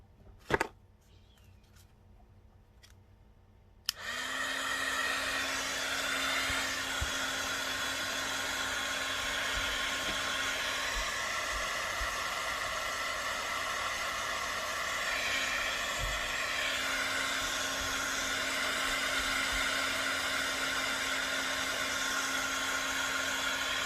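A hair dryer switches on after a few quiet seconds, then blows a steady, loud whooshing hum to dry glue, running continuously without a break.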